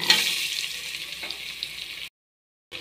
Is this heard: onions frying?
yes